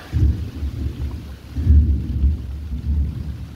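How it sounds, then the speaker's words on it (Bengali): Thunder rumbling during a rainstorm, low rolling booms that swell and fade twice over a soft hiss of rain, heard from indoors with no talking. "আর মেঘ তো গুড়গুড় করে যাচ্ছে,"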